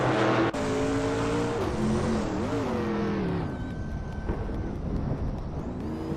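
A 1971 Ford Torino race car races among other Torinos: engines roar and rise and fall in pitch with gear changes as cars pass close by, loud and continuous, with no talking.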